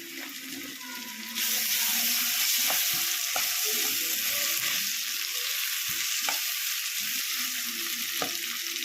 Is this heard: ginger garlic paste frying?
yes